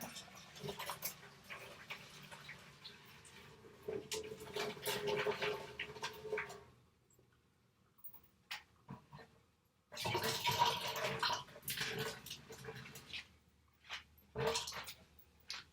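Water drains from freshly boiled cabbage leaves for low-carb cabbage rolls, heard as bursts of splashing and gushing separated by quiet stretches, fairly soft and without talk.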